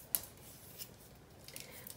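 Scissors snip through washi tape in a quiet room, one crisp cut followed by a few faint snips, close and soft.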